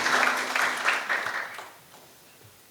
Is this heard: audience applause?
yes